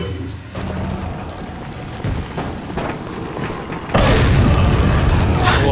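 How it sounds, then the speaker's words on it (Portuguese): A grenade goes off in Resident Evil 4, a loud, close boom that bursts suddenly and leaves a sustained, rumbling roar after it, preceded by scattered game noises and thuds. "Nossa. Granada."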